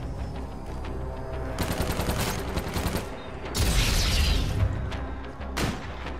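Rapid gunfire in Call of Duty Infinite Warfare, bursts of sharp cracking shots in quick succession, then a louder crashing boom with a low rumble and a final sharp burst, with almost no voices present.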